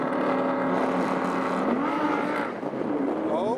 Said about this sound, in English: We next have two Audi R8s. We have Coupe versus Spider, both with launch control, but who will use it?